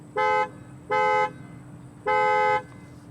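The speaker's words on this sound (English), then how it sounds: "let's hear how the horn sounds on the 2020 Audi Q7" Three horn blasts from a 2020 Audi Q7, loud and close: two short honks followed by a slightly longer one, each a steady bright tone, with no talking.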